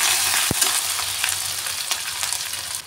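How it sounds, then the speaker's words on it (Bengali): Dried chilli, green chillies and ginger hit very hot oil and are stirred briefly, giving a loud, bright, steady sizzle, an early sharp knock from the pan, and light scraping strokes, with nobody talking. "তেলটা একটু বেশি গরম হয়ে আছে যা বুঝতে পারছি, 3টে কাঁচা লঙ্কা, আদা, একটু সামান্য নাড়িয়ে দিচ্ছি"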